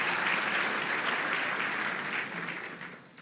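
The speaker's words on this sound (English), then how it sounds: "Let's give them a round of applause for their support" An audience at a Tri Lakes Region community gathering applauds, dense, even clapping from many hands that holds steady and then tapers off toward the end.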